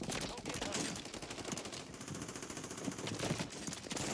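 Gunfire in Warzone 3 with a JAK Glassless Optic fitted: sustained automatic bursts rattling continuously across the clip, fairly dense and steady under game ambience.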